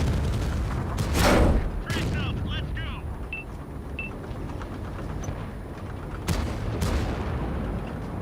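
Heavy tank cannon shots in a tank battle video game, a loud booming blast early on and another sharp report later, with engine rumble and battle noise between.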